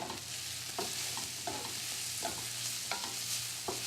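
Bacon sizzles in a pan as its fat renders, while a utensil stirs and scrapes it in a series of distinct knocks and scrapes over a steady frying hiss, close by with no voices.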